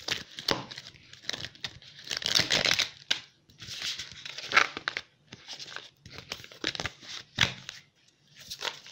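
Tarot cards are shuffled by hand in repeated bursts of papery riffling and rustling, each lasting about a second, separated by short quiet gaps.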